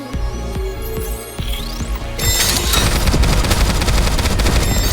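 Rapid automatic gunfire from the mobile shooter game Goddess of Victory Nikke sounds loud and close. A lighter start with a few shots and a swooping effect gives way to a dense, sustained barrage, with no talking.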